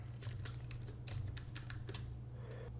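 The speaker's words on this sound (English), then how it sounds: "this time I type squat" Fingers tapping a short word on a computer keyboard, a quick run of soft, close key clicks over a low steady hum.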